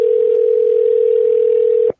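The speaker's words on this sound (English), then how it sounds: "Somebody need to answer their phone." A steady telephone dial tone during a real estate cold call, one continuous loud pure hum for about two seconds that cuts off abruptly at the end.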